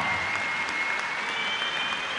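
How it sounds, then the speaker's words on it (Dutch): An audience gives a singer a thunderous round of applause, dense steady clapping heard alone for a couple of seconds. "Ik geef er nog een keer een daverend applaus"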